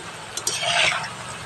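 Food frying in hot oil gives a short burst of hissing sizzle that swells and fades, with a faint clink and some stirring.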